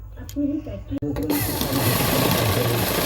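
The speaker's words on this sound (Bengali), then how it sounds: "এখন হচ্ছে এই কানগুলো সেলাই হবে মেশিনে" A sewing machine stitches small fabric ears, starting up after a brief moment of voice and then running as a steady, dense mechanical whir.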